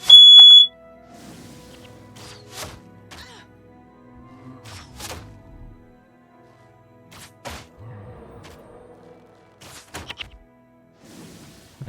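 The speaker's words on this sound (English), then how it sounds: "Mom's triggering the smoke alarm." A household smoke alarm sounds one loud, piercing beep at the very start, then cuts off. Scattered thumps, clicks and low rumbles from video game play follow.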